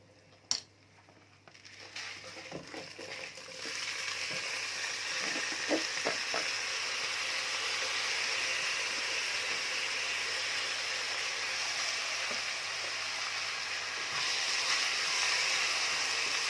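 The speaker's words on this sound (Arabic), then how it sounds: "اشوحه عندي لغايه ما كل رزه تتغلف، ما استعجلش عليه علشان انا عايزاه مفلفل قوي" Rice sautéing with browned vermicelli in a pot for koshari, starting with a sharp clatter and stirring clinks, then a steady building sizzle that stays continuous, close and unaccompanied by speech.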